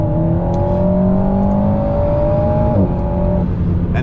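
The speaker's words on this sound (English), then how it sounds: "You get a lot more sound from the exhaust, especially on the load" An Alpine A110 GT's engine and exhaust in sport mode give a steady, loud, close drone with a strong tonal hum throughout, shifting pitch briefly near the end as if through a gear change, with no talking.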